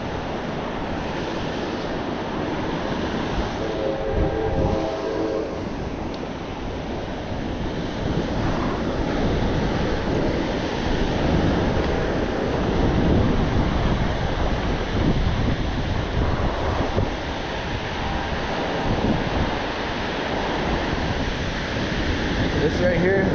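Ocean surf on a Southern California fishing beach, a continuous wind-buffeted wash of breaking and receding waves rising and falling over the whole stretch, with someone talking intermittently over it.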